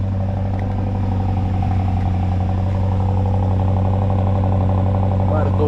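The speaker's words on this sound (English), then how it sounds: "Cold start for y'all." A BMW X5 50i starting up cold, its engine holding a steady, loud, low drone with mid-range clatter, close by.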